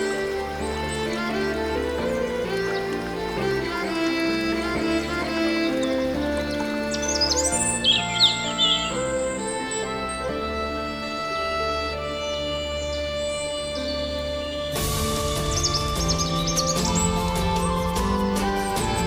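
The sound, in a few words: birds singing in the forest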